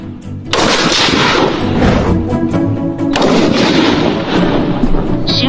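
Live rifle fire at a military shooting range, loud sharp reports in quick succession with booming echoes rolling across the range, dense and near, no voices.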